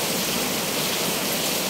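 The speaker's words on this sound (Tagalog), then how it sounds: "Lakas ng ulan po." Heavy rain pours down in a steady, dense hiss during the rainy season, loud and unbroken with no voices.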